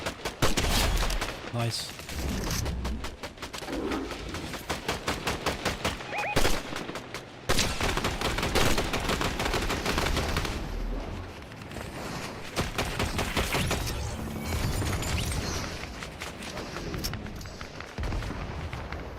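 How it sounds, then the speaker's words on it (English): Video game gunfire crackles in rapid bursts and volleys throughout, loud and dense, with a voice speaking briefly over the shooting. "Where are them shots coming from?"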